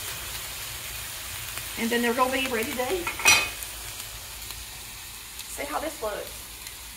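Meatballs fry in a pan with a steady, soft sizzle and occasional stirring scrapes, while a person talks over the cooking.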